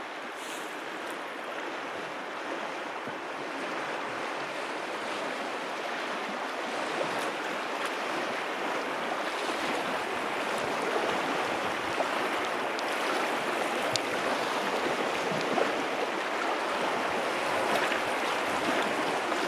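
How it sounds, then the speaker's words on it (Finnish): Rushing rapids on the Oulankajoki river, a steady broadband roar of churning water that holds constant and fairly loud throughout, with no voices over it. "Onkohan lie koko reissun viimeinen koski?"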